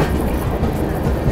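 A train rumbles past at Mathura Junction platform with a steady loud roar and clattering of railcars, continuous and close throughout.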